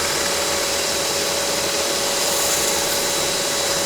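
A small dust blower hisses steadily and close while a wooden love spoon is carved, its airflow blending with the continuous whir of a power cutting tool and an extractor, no voices present.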